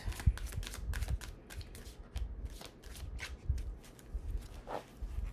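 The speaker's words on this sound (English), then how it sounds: "I shuffled quite a bit." Tarot cards being shuffled by hand, a run of quick papery riffles and soft slaps in irregular bursts, close and fairly quiet, with no talking.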